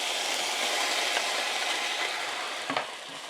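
Food fries in a very hot cazuela, a loud continuous sizzle close by that holds steady throughout, with a brief clatter near the end.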